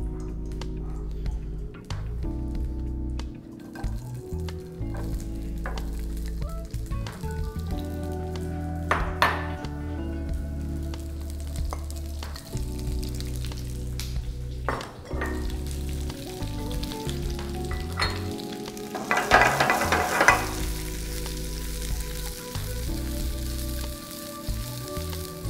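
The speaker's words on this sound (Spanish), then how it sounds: "Ahora voy a colocar los pimientos. En este caso tengo unos pimientos anaranjados, la cebolla y los champiñones." Orange bell peppers, onion and mushrooms frying in a hot pan, a steady loud sizzle throughout with occasional clinks of utensils stirring against the pan.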